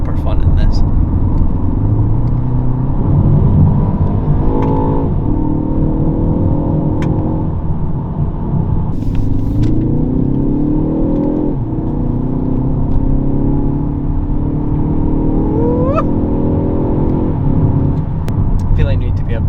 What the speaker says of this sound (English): I think this is my first proper drive in this car.